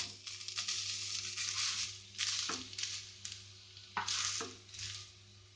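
Potatoes are added to a pan and stirred for a Goan potato and coconut barfi, giving soft sizzling and scraping strokes in uneven bursts over a low steady hum, with no talking.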